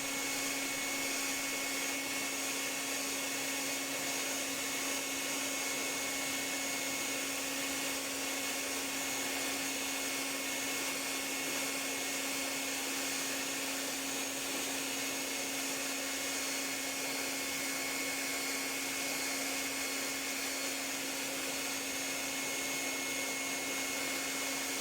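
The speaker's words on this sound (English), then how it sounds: "now I'm going to turn on my hairdryer and just point it at the clay" A hair dryer pointed at polymer clay blows continuously with a steady airy rush and a constant motor hum, unchanging throughout.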